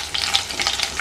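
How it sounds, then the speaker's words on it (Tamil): Brief, close crackle and hiss of mustard seeds and curry leaves sizzling in hot oil, with small spitting pops over a steady fizz. "கடுகு பொரிஞ்சோன்னா அதில் கருவேப்பிலை போட்டு தாளிச்சுக்கோங்க"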